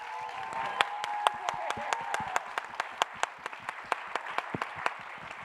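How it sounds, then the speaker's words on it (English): A crowd at an evening museum event applauds, with sparse, sharp claps at an even pace over a low room hum and a faint voice early on. "let's give a big round of applause"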